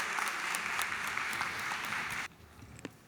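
Town hall attendees clap for a panel for about two seconds, a lively crackle of many hands that cuts off suddenly, leaving a quiet room with a few stray sounds.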